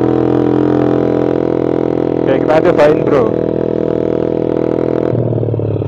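Yamaha MX King motorcycle fitted with an RMS Racing exhaust, stock engine spec and aftermarket ECU, idling loudly nearby then revved in a few sharp blips before settling back to idle, with someone speaking briefly over it.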